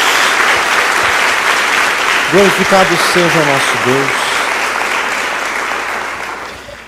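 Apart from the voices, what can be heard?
congregation applause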